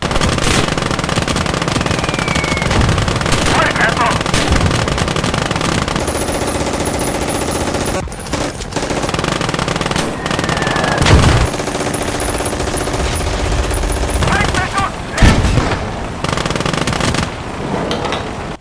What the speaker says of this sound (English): just look at this clip with just only the machine gun alone